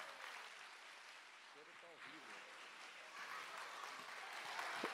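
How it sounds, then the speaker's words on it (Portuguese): Scattered applause from the audience at a hypnosis show, fairly faint and steady across the whole stretch, building slightly toward the end with a few voices mixed in. "uma salva de palmas para os nossos astros"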